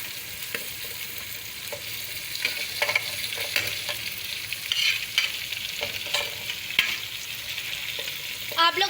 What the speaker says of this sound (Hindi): हम इसमें अपनी ऐड करने लगे हैं अरबी जो हमने काट के रखी हैं।